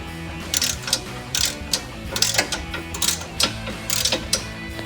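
Ratchet working loose the lower shock bolt on a 2005-2010 Mustang GT during a Roush Stage 2 suspension install, giving close, rapid bursts of metallic clicking in quick repeated strokes with short pauses between.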